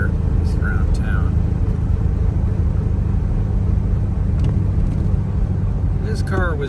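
A car cruising around town gives a steady low road rumble with engine drone throughout, and a few faint squeaks and ticks rise above it near the end.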